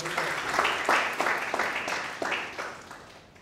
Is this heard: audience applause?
yes